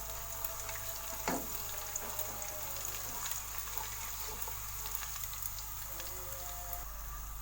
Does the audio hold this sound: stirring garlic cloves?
yes